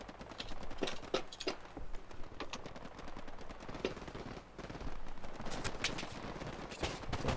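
Rapid gunfire from a video game rattles in dense bursts as bunkers are shot at, with sharp repeated cracks over a continuous background.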